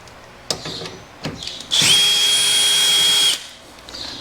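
A couple of clicks and knocks, then an electric drill driving screws into Toyota Tacoma truck steps whirs loudly for about a second and a half at a steady high pitch before stopping.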